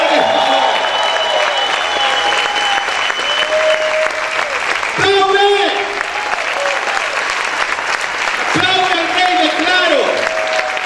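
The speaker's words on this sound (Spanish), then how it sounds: "¿Cuántos pueden aplaudir fuerte al Señor?" A church congregation claps loudly and continuously, a dense sustained applause filling the room, with a preacher's voice rising over it at moments.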